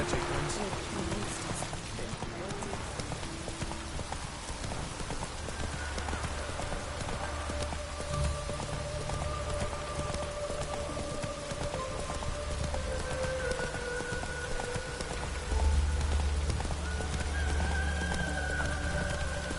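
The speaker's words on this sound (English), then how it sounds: "Rain doesn't bother you." Steady rain hisses over a PS4 game scene, with horse hooves clip-clopping and faint game voices underneath. The rain is constant and broadband, and a low thump comes near the end.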